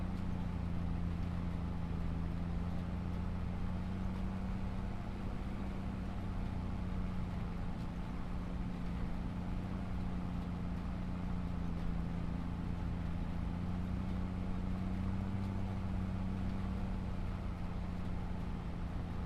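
Tractor engine overrunning while engine braking downhill in Farming Simulator 25, a steady droning low hum with a constant tone, continuous and even throughout with no talking.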